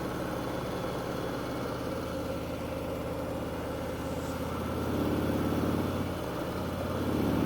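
A steady motorcycle engine drone runs throughout, low and constant, swelling slightly louder toward the end as if passing closer.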